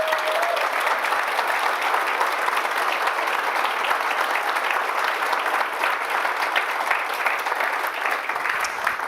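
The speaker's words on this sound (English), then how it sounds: "Let's give them an even bigger round of applause." Sustained applause from a GraphQL conference audience, a dense, steady wash of many hands clapping at full volume throughout with no talk over it.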